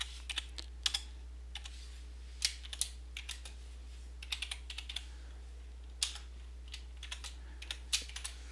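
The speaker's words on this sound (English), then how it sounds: "So if I just type in the same functions that I entered just now" Quiet, irregular clicks of someone typing on a computer keyboard while writing code in a script file, with soft keystrokes separated by brief pauses over a low steady hum.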